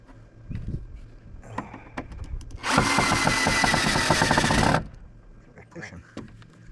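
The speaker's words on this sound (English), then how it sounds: "No trouble pushing on that drill." A power drill whirs loudly for about two seconds between quieter bumps and rustling while walls and roof go up on a homestead cabin addition, with someone speaking briefly before and after.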